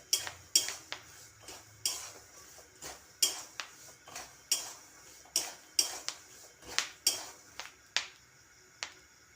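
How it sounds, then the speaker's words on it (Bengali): Sharp, irregular pops and cracks from peanuts roasting in a hot pan, about a dozen over several seconds with quiet gaps between them. "এখন বাদাম ফুটতে শুরু করেছে"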